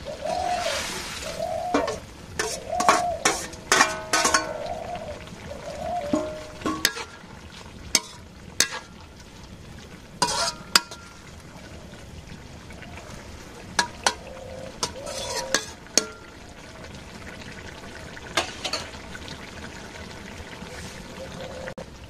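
Fish curry with garlic paste is stirred in a pan over the fire, giving scattered metallic clinks and scraping strokes over a soft sizzling simmer, with faint bird calls in the background.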